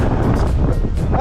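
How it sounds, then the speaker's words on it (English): Strong wind gusts buffet the microphone on a foggy Sugarpine Mountain trail in California, a loud rumbling roar with rhythmic surging bursts, close and overwhelming, with no voices. "The wind is blowing really loud."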